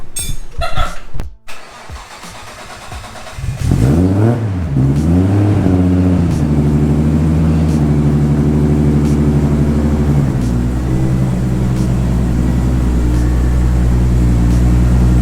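A Nissan R32 Skyline with a Vibrant muffler cranks over and fires up from cold after a few clicks, catches with a brief rev flare, then settles into a steady, fairly subdued idle that steps down slightly in pitch.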